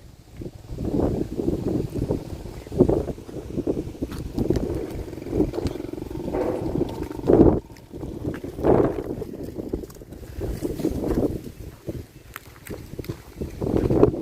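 Low, rumbling mechanical drone of two water pump motors runs continuously throughout, fluctuating intensity, somewhat rough and noisy, with occasional thumps.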